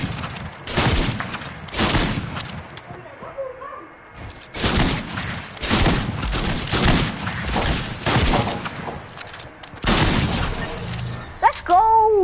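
Rapid bursts of video game gunfire crackle repeatedly in dense clusters, loud and close, with short gaps between volleys and a brief electronic tone near the end.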